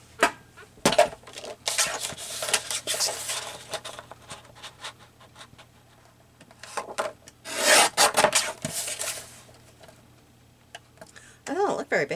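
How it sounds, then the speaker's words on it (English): A small hand trimmer cuts through wood in a few short rasping bursts separated by quiet gaps, with a louder stretch near the end, close and fairly loud. "Grab my little trimmer here."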